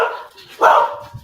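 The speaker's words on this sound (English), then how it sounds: "That's my Ric Flair dog." A dog barks twice in quick succession during an online video call, with loud, close, sharp yaps and a quieter stretch of room sound between and after them.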